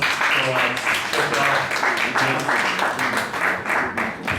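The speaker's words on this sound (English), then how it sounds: "Another round of applause for our" An audience at a music business masterclass gives a round of steady, rhythmic applause, with some voices heard over the clapping.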